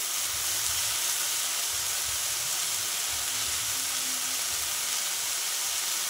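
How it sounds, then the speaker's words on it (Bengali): Kalmi (water spinach) greens fry in a pan with a steady, close hiss and sizzle that holds constant throughout, with no talking. "শাকটা তো কতটা কমে গেল, আরও ভাজতে ভাজতে আরও কমে যাবে"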